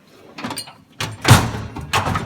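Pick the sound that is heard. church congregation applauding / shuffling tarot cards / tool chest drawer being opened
tool chest drawer being opened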